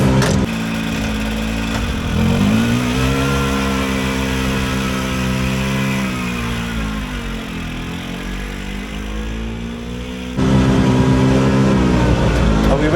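A barn-find Italian micro van, parked for 20 years, runs loudly and close after finally starting, its small engine droning with wavering revs that dip and then rise sharply near the end.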